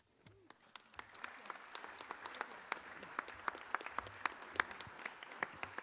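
An outdoor groundbreaking crowd breaks into applause, many hands clapping in a dense, building patter at moderate distance, with faint cheers mixed in.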